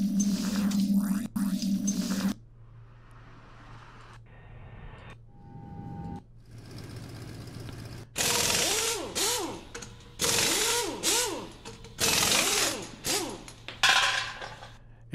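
A string of EDM transition effects previewed one after another in GarageBand: whooshing noise sweeps, risers and glitchy bursts separated by short gaps, some with falling pitched tones, fairly loud and with no voice.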